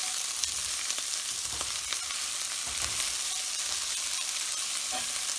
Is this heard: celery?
yes